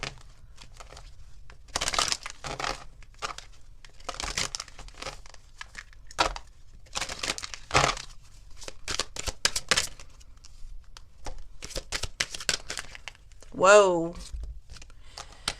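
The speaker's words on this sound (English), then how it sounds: "All right, let's get a couple of these oracle cards." Oracle cards being handled and shuffled during a tarot-style reading, with papery crinkling and flicking bursts scattered across the stretch, heard close by and mixed with a speaking voice and a brief exclamation.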